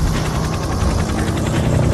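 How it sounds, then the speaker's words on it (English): Helicopter noise, a loud, close, continuous rotor thumping with a rapid regular chop over a heavy low rumble, steady from start to finish with no talk. "I'm having a bit of a problem with the helicopter"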